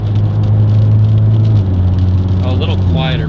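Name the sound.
Hyundai Veloster N exhaust with SXTH Element downpipe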